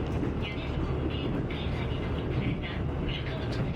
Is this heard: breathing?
no